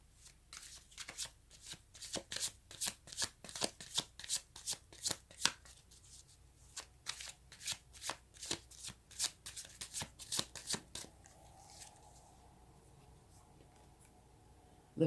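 A deck of tarot cards is shuffled in a run of quick, crisp riffling bursts, close and fairly quiet, ending in a few softer taps.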